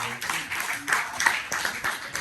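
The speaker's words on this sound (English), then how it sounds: "a round of applause for folks" A panel audience at a Black Panther film festival gives a round of applause, a dense spread of scattered claps running throughout, moderately loud and fairly close.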